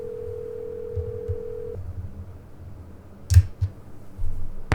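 Telephone dialing in Nancy Drew: Secret of the Scarlet Hand, a steady dial tone that cuts off, followed after a pause by a couple of short, sharp key-press clicks and a soft thump.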